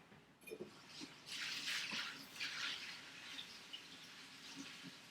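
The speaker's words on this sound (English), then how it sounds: "I love a good salad spinner, so let me rinse these off really quick." Kale leaves are rinsed with water in a salad spinner, faint bursts of running and splashing water with a few small knocks and drips, quiet throughout.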